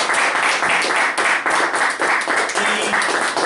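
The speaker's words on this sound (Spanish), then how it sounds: "Un aplauso para ellos, por favor." An audience at a talk in Medellín bursts into sustained applause, dense clapping filling the room loudly and steadily from start to finish with no break.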